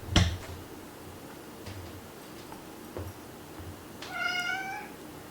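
A cat gives a short, rising meow near the end, faint against quiet room noise, preceded by a few soft knocks and taps.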